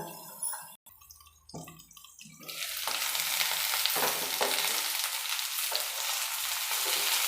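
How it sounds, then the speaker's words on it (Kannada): Pumpkin frying in a pan for a pumpkin and cauliflower kurma: after a few faint stirring knocks, a loud, steady sizzle takes over and holds close, with occasional scrapes of stirring. "ಸ್ವಲ್ಪ ಫ್ರೈ ಆಗಲಿ ಕುಂಬಳಕಾಯಿ ಹಾಕಿದ್ದೀವಲ್ಲ"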